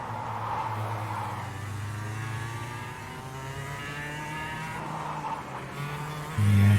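Go-kart engines race in the KartKraft video game, a steady high buzzing drone with rising and falling pitch sweeps as the karts accelerate and brake, ending in a louder low burst.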